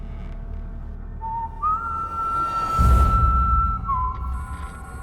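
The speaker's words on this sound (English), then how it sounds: "It sounds like a person whistling." A clear, sustained whistling tone near air vents during a night shift, holding one pitch, stepping up once and dropping near the end, with a brief rumbling whoosh in the middle.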